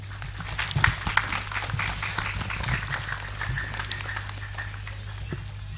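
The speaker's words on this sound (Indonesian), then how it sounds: "Boleh minta semangat untuk teman-teman 6 sani dan kelas 3 dengan tepuk tangan yang meriah." Lively clapping from an audience at an Islamic boarding school graduation and gathering, a steady patter of many hands over a constant low hum from the sound system.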